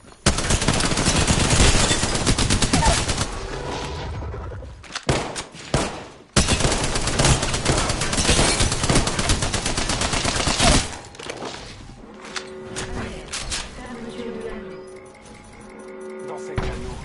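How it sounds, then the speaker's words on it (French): Heavy sustained gunfire aimed at the player in the Apex Legends video game, dense loud bursts filling most of the stretch with short breaks, fading to quieter game ambience near the end. "On me tire dessus."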